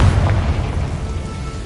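Confringo blasting spell from Hogwarts Legacy detonating in a loud, close, deep boom that lingers as a low rumble, with no speech.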